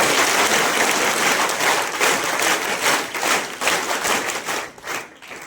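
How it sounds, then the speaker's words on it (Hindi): Strong applause from NCC cadets at a camp, dense clapping that holds loud and steady before thinning and fading out in the final second. "सभी कैडेट्स के लिए एक जोरदार तालियां बजाइए इस कैंप में।"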